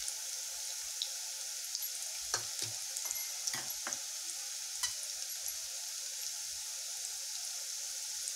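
Onions frying to a reddish brown in a pan for matki curry, a steady soft sizzle with a few stirring scrapes and clicks in the middle, no voices.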